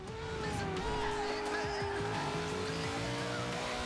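A McLaren P1 in Forza Horizon 2 holds a steady engine note while its tires squeal and skid in a continuous smear, loud and close with no talking.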